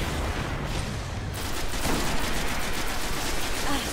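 A grenade explodes in the shooter Destiny amid ongoing gunfire, a sharp loud burst followed by a dense, noisy crackle of shots and rumble that continues for several seconds.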